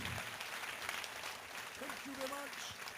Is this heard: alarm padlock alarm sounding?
no